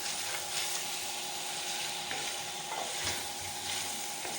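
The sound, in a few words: potato slices being stirred and fried in a pan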